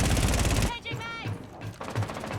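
Rainbow Six video game gunfire: a loud burst of rapid shots opens the clip, then someone speaks over sparse game sounds and further scattered shots.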